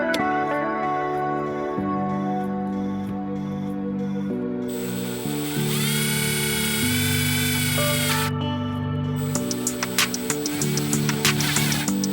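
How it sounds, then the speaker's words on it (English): A power drill drives self-tapping screws into the OEM gas pedal of an F80 M3, whining in several sustained bursts at shifting speeds, close and loud, with brief ratcheting clicks near the end. "is it uses self-tappers to drill into the OEM pedal"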